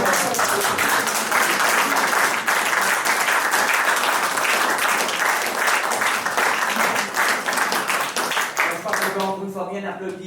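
Warm audience applause for Paul and Xavier after their performance at a watercolour artists' event, steady and full for most of the stretch, with a voice speaking over the clapping near the end.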